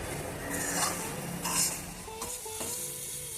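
Sliced onions sauté in a hot pan for a beef chops dish, with a bright, continuous sizzle broken by a few louder bursts of stirring and scraping against the pan, close and with no talk.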